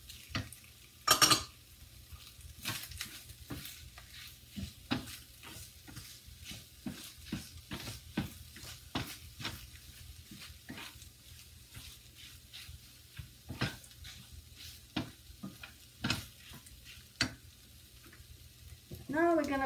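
Chicken fried rice ingredients stir-fried with oyster sauce in a pan: a soft bed of sizzling broken by repeated sharp scrapes and clacks of a utensil against the pan at an irregular, busy pace, close and fairly quiet.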